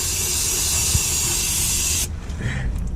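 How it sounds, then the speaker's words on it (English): Brake cleaner sprayed onto the leaking slave cylinder of a DAF LF truck, a loud, close aerosol hiss held for about two seconds before cutting off into quieter shop noise. "that's why brake cleaner is good, because it dries. So I'm just going to give it a right good soak and try and get all the excess out."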